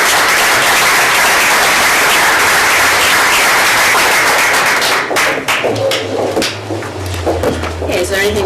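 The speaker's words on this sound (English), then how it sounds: "Okay, let's give them an applause." Applause at a school board meeting, with a dense burst of clapping from a roomful of people that fades out midway, giving way to a low hum, scattered taps and thuds, and some talk.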